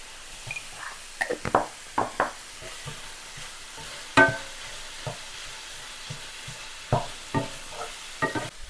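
Meat browns in a pan for a pizza cobbler, seasoned with salt and pepper. A spoon gives intermittent scraping stirs over a soft, low sizzle, close by and fairly quiet.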